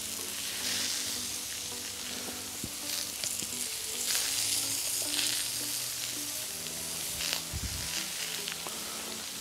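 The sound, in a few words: scallops searing on a brazier plancha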